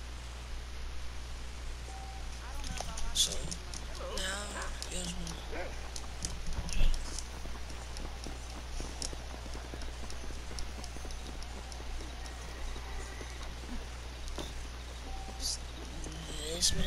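Horses' hooves clip-clopping in a video game set in the Old West, a series of close, quick hoof clops during a rustling outdoor scene, under a low steady hum.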